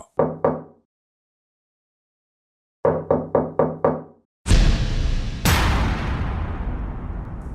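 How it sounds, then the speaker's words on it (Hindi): Knocking on a house door in a dramatized crime scene: two quick raps, a pause, then five sharp knocks in a row, followed by a sudden loud crash and a lingering rumble. "मकतूल जिस घर का मकीन था, दरवाजा बजाया जाने लगा"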